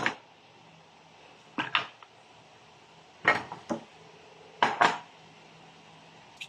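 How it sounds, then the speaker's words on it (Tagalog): A knife slicing potatoes and carrots in a home kitchen: close, sharp knocks on a cutting surface, usually in pairs, in four separate bursts spread over a few seconds with quiet between them and no talking. "maghihiwa tayo ng patatas tsaka carrots"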